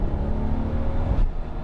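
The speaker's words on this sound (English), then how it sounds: "it's got a really nice exhaust note to it. And when you let off the gas, a little flutter from the blow-off valve." A Mk4 Toyota Supra widebody with an aftermarket exhaust and no tune drones loudly and steadily up close, its engine note briefly dipping and shifting partway through.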